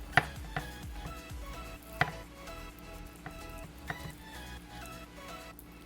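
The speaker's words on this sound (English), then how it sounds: "cut it in half. I'm gonna try to fillet this one." A knife cuts through raw chicken breast on a board, with a few sharp knocks as the blade meets the wood amid soft slicing sounds and light background noise.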